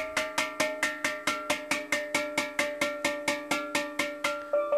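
A homemade steel drum note struck again and again with a tuning hammer from the underside, about sixteen evenly spaced ringing metallic blows in a steady rhythm, each with a bright pitched ring, close and fairly loud with no talking.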